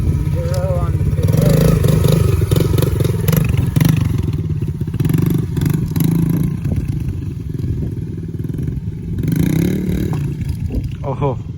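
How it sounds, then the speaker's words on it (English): A 2016 Yamaha TTR110 pit bike engine runs steadily close by for the whole stretch, with a buzzing, revving drone under intermittent talk and a few clattering knocks. "On the pit bike."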